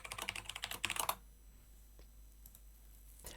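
Rapid run of computer keyboard keystrokes while a password is entered during a Windows 11 and Bazzite dual-boot install, close and crisp for about a second, then near silence with a couple of faint clicks.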